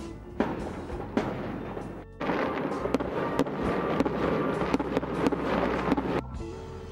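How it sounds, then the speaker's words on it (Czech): Fireworks on the eve of Bastille Day in France: a dense, continuous crackle of bursts and booms lasting the whole stretch, with sharp louder cracks standing out from the steady roar. "A máme to předvečer Bastily i s ohňostrojem."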